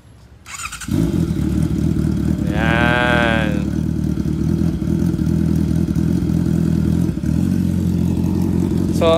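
A Honda CB650R motorcycle engine turns over and catches, then settles into a steady, loud, mellow idle close by, with a brief rev-like rise early on and voices talking under the engine.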